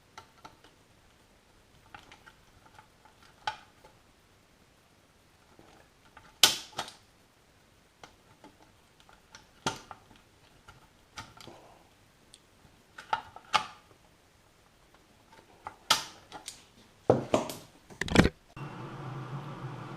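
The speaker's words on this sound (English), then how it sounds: "So I'm going to go and get some mole grips or something on there and inch it round at a time." Mole grips work a stuck screw out of an old Alan K350B AM CB radio, with sparse faint clicks and creaks broken by a few sharper metallic snaps, close and without speech.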